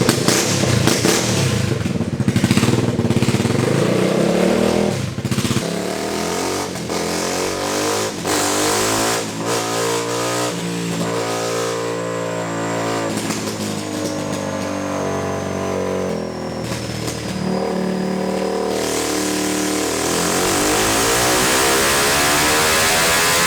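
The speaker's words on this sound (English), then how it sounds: "Maybe this is a happier CPR 250 engine" A turbocharged Honda go-kart engine on a dyno revs up and holds high, loud and steady, its pitch climbing and falling through repeated pulls with no voices.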